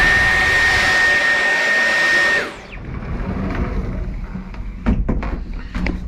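A Dyson V11 cordless stick vacuum whines loudly with a steady high-pitched motor tone, then abruptly winds down and cuts off, leaving faint handling clicks and knocks.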